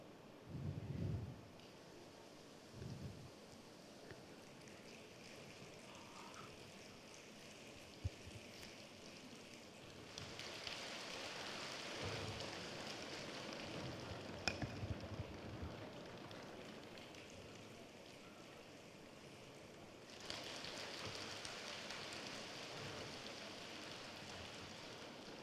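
Audience in a forum hall imitating Jaipur rain together, a soft broadband hiss swelling in two long waves of roughly ten seconds each, with quieter patters and scattered taps in between.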